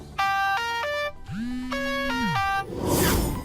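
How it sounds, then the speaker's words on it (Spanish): Spider-Man's phone ringtone in The Amazing Spider-Man plays a bright electronic melody quoting the 1960s animated series theme, in short repeated tonal phrases with a low sliding tone between them, ending in a burst of broadband noise. "escuchamos que su tono de llamada hace alusión a la intro de la serie animada de los 60s"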